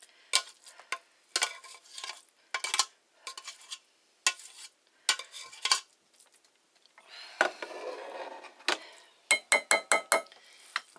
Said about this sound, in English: I'm just going to put the rice in here and spread it all around